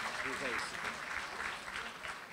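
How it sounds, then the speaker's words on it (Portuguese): Audience applause at a pet business talk welcoming a veterinarian to the stage, a short dense burst of clapping lasting a couple of seconds. "Vamos aplaudir o médico veterinário Renato Brescia Miraca"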